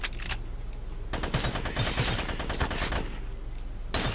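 Rapid bursts of gunfire aimed at enemies in the sci-fi game GRAV, clustered shots from about one to three seconds in over a steady background hum, with a shorter burst near the end.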